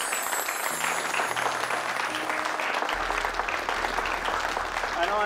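A crowd claps continuously at an indoor celebration in a Hindi TV drama, the steady applause running throughout with faint musical tones and some voices underneath.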